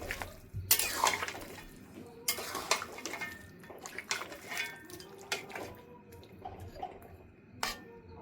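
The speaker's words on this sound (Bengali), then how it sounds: "জলটা দিয়ে একটু নেড়ে চেড়ে দেবো।" Water goes into cooking chicken in a pot and is stirred, with faint sloshing and bursts of metal spoon clinks and scrapes against the pan, soft and intermittent over a quiet kitchen background.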